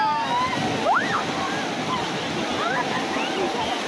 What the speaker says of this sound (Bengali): ওই সেই ঢেউটা দেখ একবার।